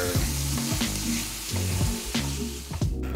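Vegetables sautéing in a pan with salt, pepper and thyme for cheesesteak egg roll filling, a loud close sizzle with repeated clattering stirs and scrapes of a utensil.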